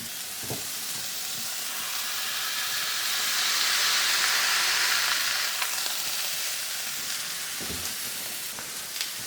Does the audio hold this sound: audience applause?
no